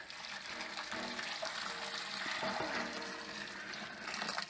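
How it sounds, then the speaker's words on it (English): Water poured into a home brew kit fermenter for an Irish stout, a continuous gurgling, splashing stream, faint and steady throughout. "Now I just pour the water in."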